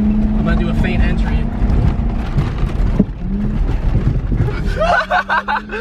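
A go-kart engine running on cooking oil hums steadily as the kart cruises around a track at about 35, with the motor droning under a talking voice and the pitch rising near the end.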